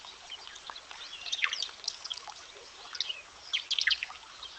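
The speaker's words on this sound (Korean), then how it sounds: "약간 물소리도 나고 이렇게 짹짹짹한 소리도 나고" AI-generated birdsong from an image-to-sound model: quick bright chirps and tweets scattered over a faint trickle of water, moderately close, with no voices.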